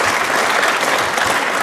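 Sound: round of applause from audience

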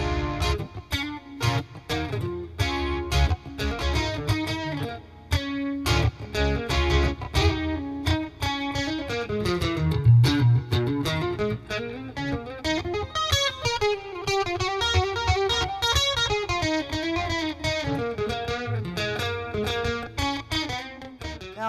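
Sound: electric guitar lead with gain, chorus, reverb

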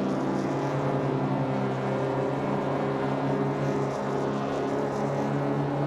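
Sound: Daihatsu Sigra engine roaring, Assetto Corsa video game

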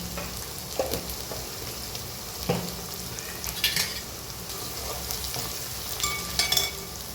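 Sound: ginger and chilli pieces frying in a pan

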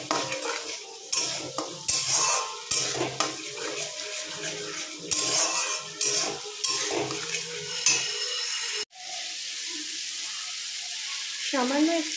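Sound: stirring poppy seed paste in frying pan

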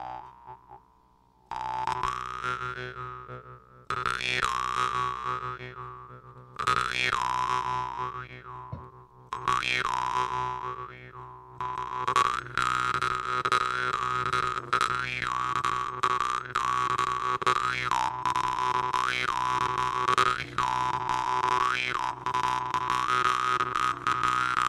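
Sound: jaw harp (vargan) being played

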